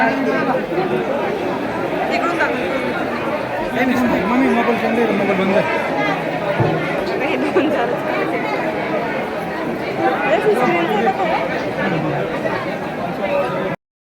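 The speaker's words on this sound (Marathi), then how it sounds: "बघा ही गर्दी आहे" A dense crowd of devotees chatters and murmurs steadily at Ekvira temple during the Navratri festival, a continuous near babble of many voices with no quiet gaps.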